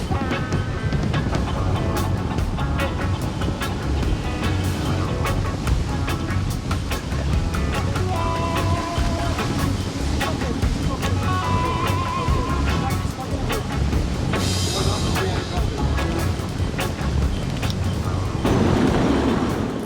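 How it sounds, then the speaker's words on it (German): Strong, gusty wind buffeting a catamaran moored at a marina, a continuous rough roar with a heavier gust near the end, while faint voices talk underneath. "Ziemlich heftiger Wind."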